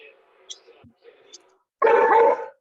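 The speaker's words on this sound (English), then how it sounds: "someone's dog's excited about hot cross buns" An excited dog gives a short burst of barking in the background of a home kitchen, brief and moderately loud after quieter ambient noise.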